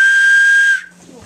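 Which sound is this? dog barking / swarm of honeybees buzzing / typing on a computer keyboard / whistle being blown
whistle being blown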